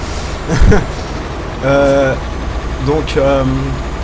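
A MAN TGX truck in Euro Truck Simulator 2 runs with a loud, low mid-pitched engine drone that rises and falls in short revving bursts, with a brief thump near the start.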